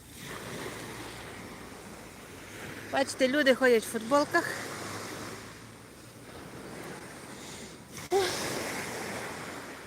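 Sea waves washing onto the shore in a steady, windy roar with wind buffeting the microphone, while a voice talks briefly over it partway through.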